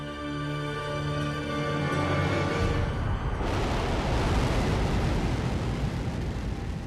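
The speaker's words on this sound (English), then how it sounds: "The Russian Soyuz carried a surveillance satellite into outer space" Russian Soyuz rocket launching a surveillance satellite, a roaring blast that starts with a low tonal drone and swells into dense, broad rumbling thunder, loud and sustained throughout.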